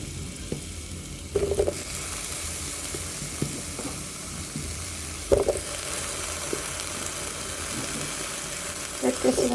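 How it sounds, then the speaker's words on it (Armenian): Eggplants frying in vegetable oil in a home kitchen, a steady hissing sizzle throughout with a few sharper clatters and spatters, and someone speaking briefly over it. "հիմա կավելացնեմ սմբուկները և որպեսզի տապակվի։"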